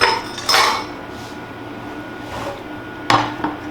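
Toasted spices being taken out of a pan while making Chinese five-spice: a few sharp metallic clinks and scrapes of utensil against pan, spaced apart in an otherwise quiet kitchen.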